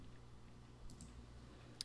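A computer mouse clicked while editing a record, two faint ticks midway and a sharper click near the end over a low steady hum, with no voices.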